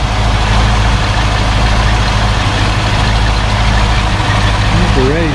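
A 1972 Mercedes-Benz 280SE 4.5 engine idles quietly and evenly without change after a valve adjustment, a smooth low drone heard up close.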